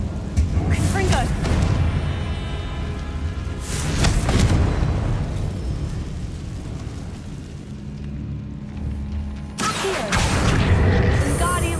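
A Confringo blasting spell in the video game Hogwarts Legacy, heard as several loud booming blasts with crashing debris and rumbling between them.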